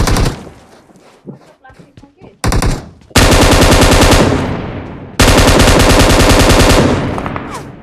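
Automatic gunfire in BGMI on the Miramar map, bursts of rapid shots that swell into two long, loud sustained volleys with quieter scattered shots before them, while someone talks over the game.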